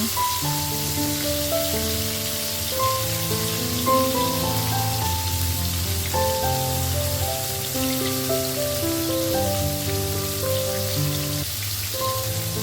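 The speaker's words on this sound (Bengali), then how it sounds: "তো এখন সবগুলো পটল এক এক করে ভেজে নেব।" A continuous rain-like sizzle of pointed gourd frying in oil runs beneath a gentle melodic tune, with no one speaking.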